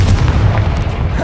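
A Bombarda blasting spell goes off in Hogwarts Legacy, giving dense, rumbling low booms that fill the short moment steadily and loudly, with the spell's effects stacking into a continuous heavy roar.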